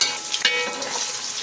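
An egg sizzles and crackles in hot oil in a pan, a steady close frying hiss with a few sharper pops near the start, cooked as part of chicken biryani.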